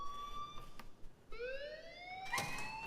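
An alarm rings inside a school building in the video game Life Is Strange, a wavering siren-like electronic tone that rises and sweeps, sounding at moderate volume with no speech over it.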